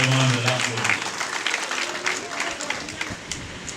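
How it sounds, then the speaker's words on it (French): Audience at a training graduation ceremony in Richard-Toll claps warmly. The applause starts strong and gradually thins, and a voice speaks faintly beneath the clapping. "madame Ba Yassine vous demande de l'applaudir."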